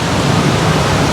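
Floodwater pours along a Bangkok street outside a massage parlor, making a loud, steady, close rushing roar with no voices.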